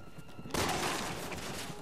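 Gunfire in the video game Resident Evil 6, a sudden loud burst halfway through followed by a sustained, dense rattle of shots and echoing noise, with no voices over it.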